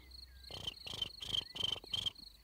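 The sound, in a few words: person imitating a cricket chirping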